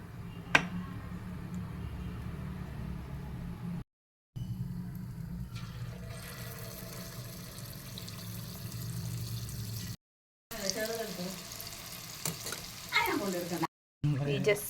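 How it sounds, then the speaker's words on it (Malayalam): Hot oil sizzling and bubbling while unniyappam fry in an appam pan, a steady close crackle with a few brief breaks and people talking over it. "കുയ്യപ്പച്ചട്ടിയിൽ നമ്മൾ എണ്ണ ഒഴിച്ചു തിളയ്ക്കുന്നുണ്ട് കേട്ടോ."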